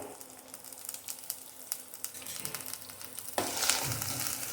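Onion paste and turmeric frying in a pan for a half-kilo fish curry, a steady close sizzle with scattered crackles that swells louder and brighter in the last second as more goes in; no talking.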